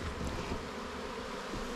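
Honeybees hum at a hive during a spring inspection, a faint, steady drone of many wings with no voices.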